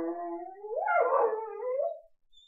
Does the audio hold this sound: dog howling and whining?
yes